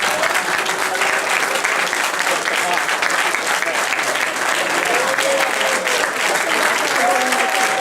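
Steady, dense applause from a dinner audience at an association's 71st anniversary closing dinner, filling the room continuously from start to finish at close range.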